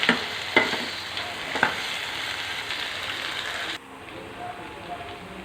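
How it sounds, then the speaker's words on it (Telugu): Carrot and potato pieces sizzle in a pan while being stirred, with a few sharp utensil scrapes early on before the frying hiss drops to a quieter, steady level. "క్యారెట్ ముక్కలు వేసి కొంచెం మగ్గిన తర్వాత బంగాళదుంప ముక్కలు వేసుకోండి ఈ బాగా కలిపేసి చక్కగా మద్దనివ్వండి"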